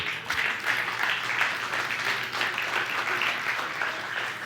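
Church congregation clapping during a worship service, a steady, moderately distant round of applause that holds evenly for a few seconds, with a low background hum.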